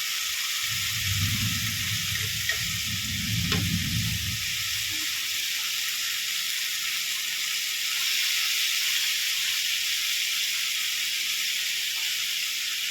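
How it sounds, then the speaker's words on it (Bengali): Chicken pieces fry in a pan over a medium-high gas flame, giving a loud, continuous sizzling hiss from start to finish, with a brief low murmur early on. "যখন আমি এই মাংসটা ফ্রাই করছি এখন কিন্তু আমার গ্যাসের ফ্লেমটা কিন্তু মিডিয়াম টু হাই আছে"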